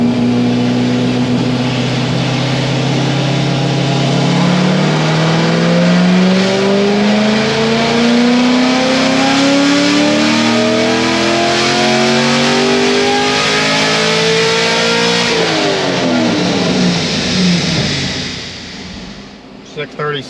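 A tuned stage 3 Corvette Z06 roars through a full-throttle dyno pull, its engine note climbing steadily for about fifteen seconds, then falling away as the throttle closes and the car coasts down; loud and close throughout.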